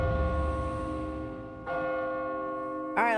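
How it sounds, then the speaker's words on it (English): A large bell in the Kingdoms of Amalur role-playing game rings out with a rich, sustained metallic tone, struck twice more in quick succession so the long ringing swells and overlaps. "All right, we're gonna ring the bell."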